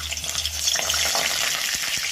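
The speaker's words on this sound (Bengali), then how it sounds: "এখন আমি ভেজে নেব।" Cut cauliflower and potato pieces fry in hot oil in a pan, giving a steady close sizzle with faint stirring scrapes toward the end.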